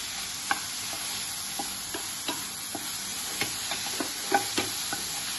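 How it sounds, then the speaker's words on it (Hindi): Tomatoes frying in a pan for Chicken Patiala, stirred over medium-low flame: a soft continuous sizzle broken by regular spoon taps and scrapes, close up, with no voices. "इसे अच्छे से हम स्टर कर लेंगे।"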